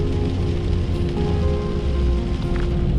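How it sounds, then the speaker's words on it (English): Steady, dense rain falling on surfaces, a constant loud hiss with a low rumble underneath and no breaks, heard alone without talking. "There's been enough rain come down today for the rest of the week."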